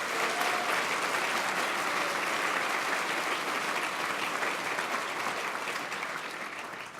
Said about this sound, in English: Let's give them a big round of applause also.